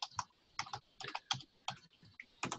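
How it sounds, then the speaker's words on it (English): Computer keyboard typing login credentials: close, crisp key clicks arriving in quick irregular bursts with short pauses between, fairly quiet and isolated with no voices. "if I enter my credentials here and hit enter"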